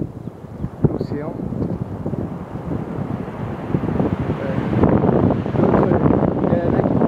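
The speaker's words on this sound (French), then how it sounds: "le vent vient dans mon dos, il vient de face sur l'océan." Wind blows across an open beach at Cambaie on Réunion, rumbling and buffeting against the microphone and growing stronger toward the end, while someone talks over it.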